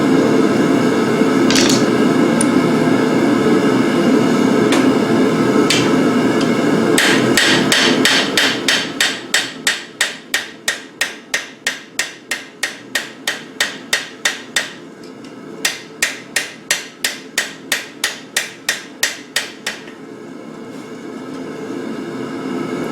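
A forged butcher knife is hammered on an anvil: after a few scattered blows, a long series of loud, ringing strikes falls in a fast, regular rhythm, broken by two brief pauses, over a low steady room hum.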